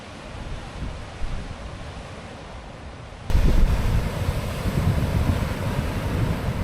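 Surf rolls and crashes against the rocks along the Sydney coastal walk, a broad roaring wash of water that swells louder halfway through, heavy wind buffeting the microphone throughout.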